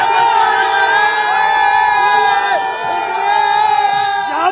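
A big crowd of Indian cricket fans cheers at a stadium during an India versus New Zealand match: a dense, loud roar of shouts, whoops and shrill whistles that carries on without a break.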